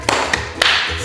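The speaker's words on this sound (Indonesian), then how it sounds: "coba sih tepuk semangatnya bagaimana?" Children do a spirited group clap in a class session, three quick sharp claps spaced in a brief rhythmic burst, close and clear with little else around them.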